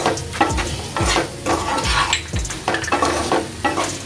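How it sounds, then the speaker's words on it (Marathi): Sweet potato pieces being stirred and sautéed in a pan with a little salt for sabudana khichdi, with steady sizzling under rhythmic scraping strokes about twice a second. No one speaks. "रताळी छान परतलेली आहे"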